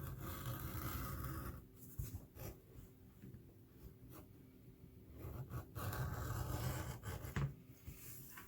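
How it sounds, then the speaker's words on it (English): An edge beveler scrapes along the edges of a leather journal cover, giving soft, close rasping strokes in uneven bursts with short pauses, quiet and without talk. "Now we're ready to bevel our edges."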